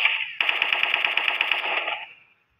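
Automatic weapon fire in the online shooter Special Force 2, a rapid burst of about a dozen evenly spaced shots that ends in a fading echo, loud and alone.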